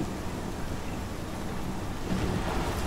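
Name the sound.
pixelated rain in the video game Life Is Strange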